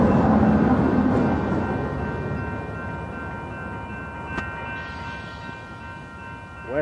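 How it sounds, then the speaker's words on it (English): A westbound Union Pacific intermodal freight train rolls past at night, a loud steady rumble and rail noise that slowly fades, with a brief sharp squeal near the end. "Westbound Union Pacific"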